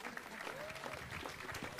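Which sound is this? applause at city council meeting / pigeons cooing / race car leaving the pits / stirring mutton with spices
applause at city council meeting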